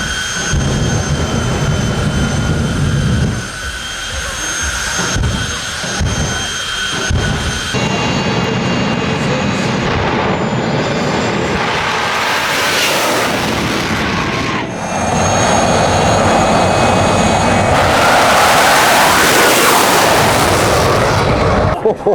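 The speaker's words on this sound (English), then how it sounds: "Oh, there are jet cars going on, you know." Jet dragster cars run at Santa Pod Raceway, their engines roaring loudly with sustained blasts and surging whooshes that rise and fall across the run.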